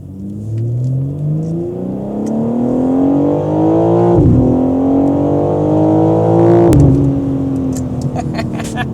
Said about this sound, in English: This is how we want the car to sound, a single mid-pipe or this.